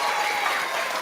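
An audience at a children's book awards ceremony claps for the performers, a dense, even wall of applause filling the whole moment without a break.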